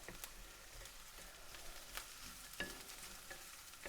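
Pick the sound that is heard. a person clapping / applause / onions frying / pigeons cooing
onions frying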